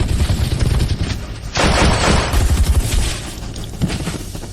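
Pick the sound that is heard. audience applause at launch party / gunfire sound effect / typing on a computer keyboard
gunfire sound effect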